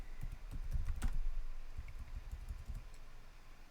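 Fingers type on a computer keyboard at a Linux command line, a quick irregular patter of soft key clicks that bunches into bursts and then slows, close and fairly quiet.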